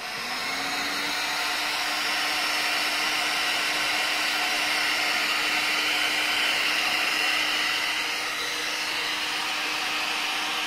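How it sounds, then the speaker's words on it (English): A heat gun blows steadily on heat-shrink tubing slid over a hand-made digital interconnect cable, a continuous loud broadband whoosh with a faint tonal whine, running evenly throughout with no talk. "Now we're going to just heat that up with a gun."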